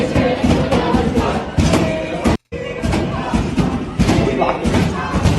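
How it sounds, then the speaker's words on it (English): Protesters pound on a library door and chant together: heavy, repeated thuds hit in a loose rhythm under loud crowd voices, close and continuous, with a split-second dropout midway. "they're chanting free, free Palestine while banging on the door"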